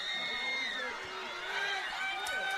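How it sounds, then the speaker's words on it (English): Tanner's home crowd at a high school football game against Waterloo roars in a steady, sustained wash of cheering and shouting, urging its defense toward a final stop late in the game, with a commentator talking over it. "You can hear Tanner's crowd trying to get their defense to make one final stop in this ball game."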